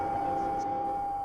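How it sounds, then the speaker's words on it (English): An eerie sound effect of the planet dying in the Final Fantasy VII video game: a faint, steady high tone hangs over a low hollow hum, unchanging and quiet throughout. "That's the sound of the planet dying."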